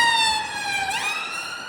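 A siren wails loud and steady, its rising and falling tone bending downward midway as the emergency vehicle passes close by on a street, with no talk over it.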